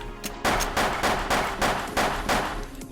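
Rapid bursts of automatic gunfire in the online shooter Wolfteam, loud and close, firing in a steady stuttering rhythm of repeated volleys with no pauses for talk.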